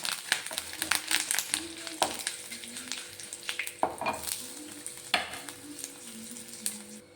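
Hot oil sizzles and crackles steadily as spices and curry leaves fry for mango pulissery, while a utensil stirs and scrapes the pan, with occasional louder clinks.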